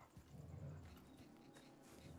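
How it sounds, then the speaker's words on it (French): Dogs in the video game STALKER 2, a low whimpering and growling presence lasting a couple of seconds, fairly quiet under steady game ambience. "Ah, c'est des chiens."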